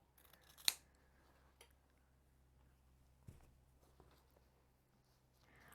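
Scissors cutting the edge of a denim apron, one sharp snip near the start followed by a few quieter snips and faint handling sounds in a quiet room.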